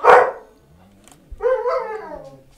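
Two sharp dog barks close by, the second drawn out into a yelping bark, with a short quiet gap between.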